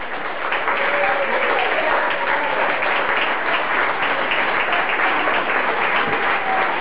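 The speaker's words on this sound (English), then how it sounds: "Let's give them a huge round of applause." Wedding guests give Tom and Jen a steady, full round of applause at their evening reception, a dense roomful of clapping with a few voices mixed in throughout.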